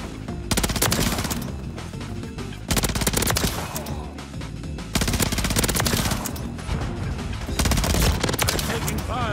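BP50 rifle gunfire in the Modern Warfare 3 video game: loud, dense automatic bursts, four long volleys separated by brief gaps, with no talk over them.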